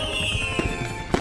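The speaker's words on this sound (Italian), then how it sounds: "Mai avvicinarsi troppo ai fuochi d'artificio!" Fireworks explode in a quick burst of bangs and crackles lasting about a second, loud and close, with a whistling tone sliding across the pops.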